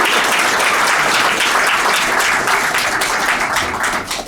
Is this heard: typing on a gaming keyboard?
no